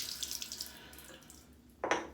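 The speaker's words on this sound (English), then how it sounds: "so I'm gonna go ahead and splash the bloom water" Soap bloom water is splashed during a shave with cedar-scented soap: a low, steady trickle of water runs at first, then one short, louder splash lands near the end.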